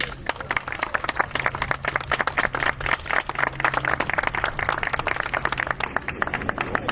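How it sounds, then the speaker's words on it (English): Outdoor crowd at a nurses appreciation parade in Montclair claps in a loud, rapid patter of many hands, steady and continuous for several seconds, with no talk over it. "another big round of applause to all of you"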